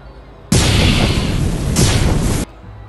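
Gunfire in a French action film bursts in loud and close, a dense roaring blast that holds for about two seconds with a second surge midway before cutting off abruptly.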